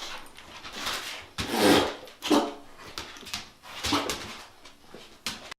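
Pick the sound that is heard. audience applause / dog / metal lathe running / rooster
dog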